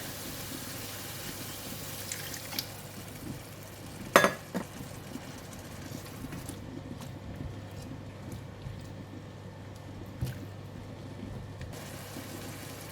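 Water splashes into a pan of stir-fried bitter gourd and pork belly in black bean sauce, a quiet pour with a sharp clink of metal partway through, followed by a soft, steady simmer and occasional light taps.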